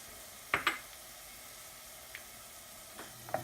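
Onions and minced garlic frying in a pan with a soft, low sizzle, broken by a few sharp clinks and scrapes of a utensil stirring against the pan.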